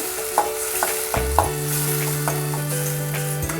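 Spiced potato Manchurian masala with yogurt being stirred in a hot pan: repeated scraping and tapping of a spoon against the pan over a continuous sizzle, close up.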